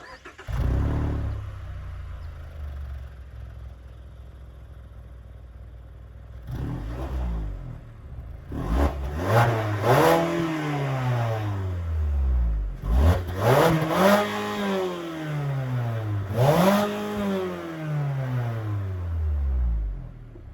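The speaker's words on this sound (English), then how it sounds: "You do get two exhausts, and the exhaust sounds nice." A Mazda CX-30 engine starts, idles with a low rumble, then revs repeatedly through its twin exhausts, each throttle blip rising and falling in pitch.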